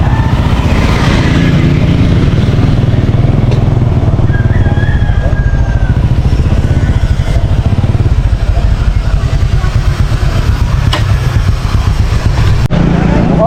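A motorcycle engine idles and putters nearby with a steady low rumble, while voices chatter over it.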